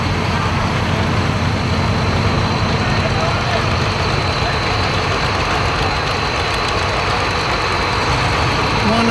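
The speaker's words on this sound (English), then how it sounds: "Looks like it's a Ford model, but it has a Ford V8 engine in it, big tires, made for pulling" A modified Ford tractor built for pulling, fitted with a Ford V8 engine and big tires, idles with a steady, dense rumble throughout, loud and unchanging, while a person talks over it.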